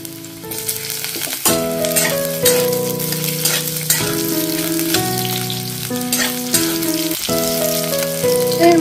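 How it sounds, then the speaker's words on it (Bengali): Cut potatoes frying in hot mustard oil make a continuous bright sizzle, close and steady, while tonal background music plays throughout and no one speaks. "তেলটা গরম হয়ে গেছে, এবারে কেটে রাখা আলুগুলো আমি দিয়ে দিচ্ছি তেলের মধ্যে।"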